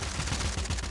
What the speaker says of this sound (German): die AK sprayt halt die Leute nieder